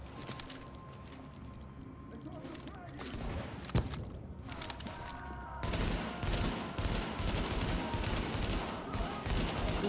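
Gunfire in The Division, a subway morgue setting, with scattered shots and clicks early on, then dense rapid bursts of automatic fire in the second half over a rumbling backdrop, with a voice talking.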